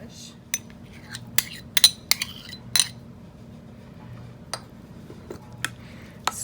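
A utensil stirs mayo, yellow mustard and dill pickle relish together for tartar sauce, giving light, irregular clinks and taps against the bowl, scattered and fairly faint over a quiet low hum.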